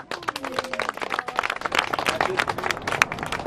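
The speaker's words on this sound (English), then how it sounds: "Give yourself a round of applause." Audience applause at a fan convention, a crowd clapping rapidly and unevenly for a few seconds with scattered voices mixed in.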